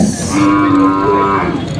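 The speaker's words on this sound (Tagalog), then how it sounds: "Babaeng kalabaw." A female water buffalo lets out a long, low moo close by at a livestock auction market in Lucena, steady and loud over faint background noise.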